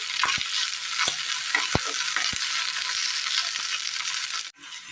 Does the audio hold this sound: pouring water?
no